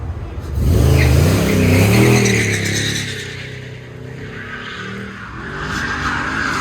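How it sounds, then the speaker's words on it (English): 1974 Chevy Blazer with an LT twin-turbo engine on an autocross run, roaring close as it accelerates, then tires squealing through turns as the engine note rises and falls, loud with no talk over it. "74 Chevy Blazer with an LT twin turbo"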